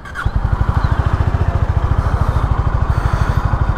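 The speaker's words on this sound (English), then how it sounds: "Okay, first startup of our bike." Honda CB 350 H'ness motorcycle engine firing up for its first start, catching after a brief crank and settling into a loud, even, thumping idle close by.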